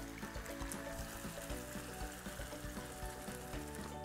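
Water mixture hits hot masala for dhaba-style paneer butter masala, giving a fairly soft, crackling sizzle with bubbling and splashing throughout a few seconds, with no talking.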